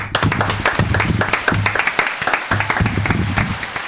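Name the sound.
applause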